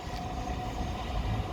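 A Class 455 electric passenger train passing at Raynes Park on the South West Main Line, a steady, loud rolling rumble throughout with no talk.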